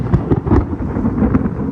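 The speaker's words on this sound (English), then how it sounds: "I hear the thunder." Thunder rolls as a low, uneven rumble with a few stronger surges, moderately loud and sustained throughout, with no voices.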